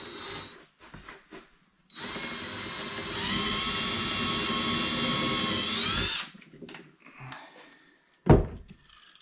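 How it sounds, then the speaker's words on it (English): A power drill with a small bit whines steadily for about four seconds, boring a pilot hole in wood, pitch rising slightly as it bores in, with a few clunks and handling knocks before and after. "get a little drill bit, and we're just gonna drill a pilot hole"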